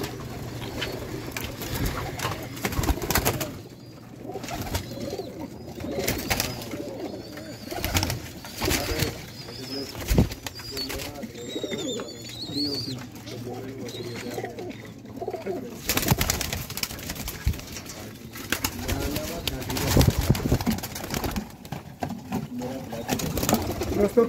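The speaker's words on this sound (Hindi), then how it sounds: "उन्नी देर तक भाई तुहानूं कबूतर दिखाने हैं" Sialkoti pigeons cooing in a loft, soft repeated low coos near and fairly clear, with other bird calls and background noise throughout.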